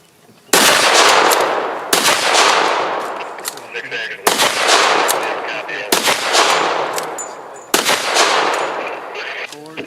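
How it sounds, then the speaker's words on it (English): An original 1942 K98K bolt-action rifle fires 8mm rounds at a battle reenactment: five loud, sharp shots spaced roughly every one and a half to two seconds, each echoing away before the next. "This is my rifle, K98K rifle"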